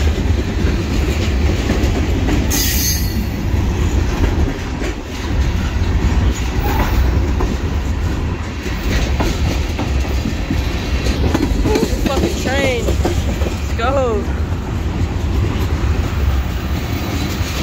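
A train led backwards by an SD70ACE diesel locomotive rumbles past up close, loud and continuous, wheels clacking over the rails with brief metallic squeals partway through.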